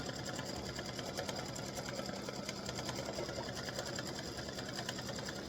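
An embroidery machine stitches a test design of butterflies and hibiscus in a continuous, rapid mechanical chatter, the needle's fast steady rhythm sounding fairly faint and unbroken throughout.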